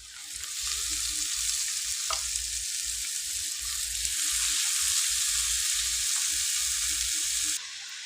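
Amaranth leaves fry in a hot pan for a simple thotakura fry, giving a steady, close hiss of oil that runs throughout with faint stirring knocks scattered underneath.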